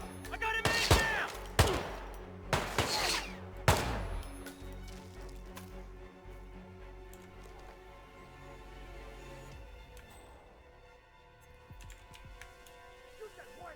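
Gunfire in Hitman 2 at an island resort: a few sharp, loud shots in quick succession near the start, then quieter ambient sound.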